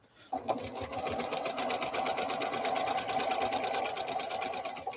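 A sewing machine stitching quilt pieces runs steadily at speed, its rapid even stitching rhythm loud and close, with no one speaking.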